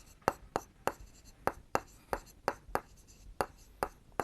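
The triangle area formula being written out during a class 7 maths lesson: a steady series of about a dozen short, crisp tapping strokes at an even pace, close and moderately quiet, with no talk.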